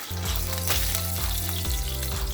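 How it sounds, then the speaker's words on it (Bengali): Stinging catfish (shing fish) sizzle steadily in hot oil in a pan, a close, continuous frying crackle with a low bubbling hum and occasional stirring knocks. "একই নিয়মে যে আমার বাকি মাছগুলো আছে সেগুলো আমি ভেজে নিব।"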